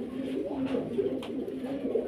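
A Budapest fancy pigeon coos softly nearby, a continuous low warbling murmur with gentle rhythmic swells and no talking.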